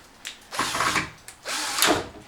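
A power drill with a newly fitted motor drives a screw into rough lumber at a wood yard, heard as two close, loud whirring bursts of about a second each with a short pause between.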